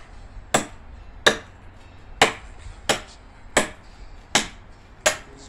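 Firewood being split for a bonfire: seven sharp, loud chopping strikes land at a steady pace about one per second, each cracking cleanly through the wood with short gaps in between, and no voices.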